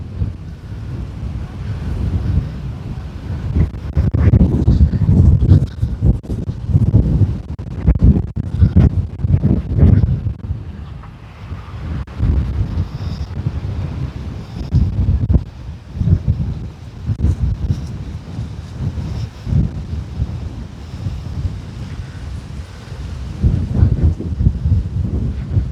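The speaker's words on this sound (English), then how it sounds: "this is getting pretty windy" Strong wind buffets the microphone on a beach resort promenade at Matagorda, with gusty low roaring rising and falling continuously and possible surf underneath.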